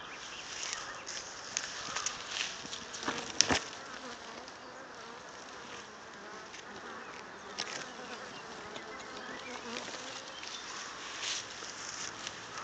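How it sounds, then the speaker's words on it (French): A honeybee swarm buzzes in a continuous, fairly faint drone close by, with individual bees whining past and a soft thump partway through. "on va mettre l'essaim dans la ruchette sur la seconde vidéo"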